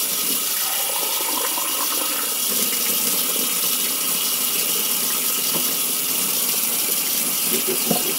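Makeup brushes clogged with oily foundation are rinsed under running water, giving a continuous, fairly loud rushing splash that holds steady throughout with no talking.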